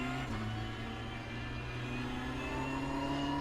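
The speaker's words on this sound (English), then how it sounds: "up through the gears, nice and aggressive, hard on the throttle" Ferrari GT3 race car engine in iRacing, held hard on the throttle, a steady loud tonal drone whose pitch climbs gradually through the gears, with no talk.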